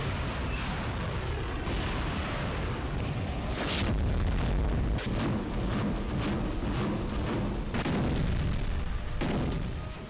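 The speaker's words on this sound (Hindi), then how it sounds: "रूसी मिसाइलों से धधकने लगा।" Russian missile strikes hit a region of Ukraine, with heavy booming blasts and rumbling explosions, loud and sustained, with sharp bursts around four and eight seconds.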